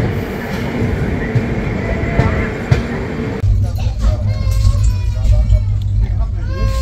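The Patna Garib Rath Express with LHB coaches runs past Patipukur station, a loud steady rumble and rattle of the train with people talking over it.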